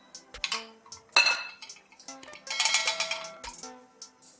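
Coffee cake batter being mixed in a bowl, a spoon or whisk clinking and scraping against the bowl in irregular bursts, no talking.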